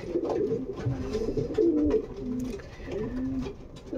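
Several old pigeons, seven to thirteen years old, coo close together in a loft in overlapping, throaty rolls, a busy murmur of calls with faint shuffling in the background.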